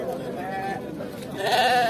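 Sheep and lambs bleat at a busy livestock market, their calls overlapping with steady crowd chatter and traders talking nearby throughout.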